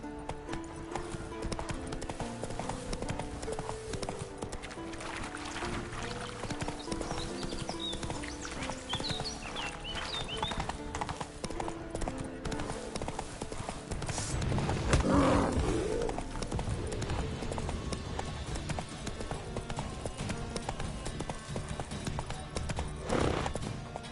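Horse hooves clip-clop steadily through a ride in the video game The Witcher 3, the rhythmic footfalls running continuously beneath a bed of game music, with a brief louder swell midway.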